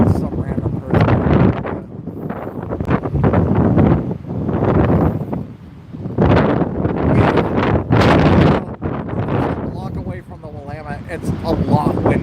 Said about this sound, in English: It's a lot windier here than even like downtown.